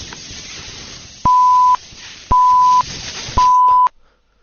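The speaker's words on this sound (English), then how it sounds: "What's with all the beeping?" A breathalyzer gives three identical sustained electronic beeps, each about half a second long and evenly spaced, over a faint background hum.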